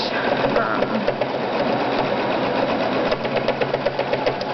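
A domestic sewing machine runs steadily and close, top stitching along binding with a stitch-in-the-ditch foot, its needle producing a continuous rapid mechanical hum and clatter.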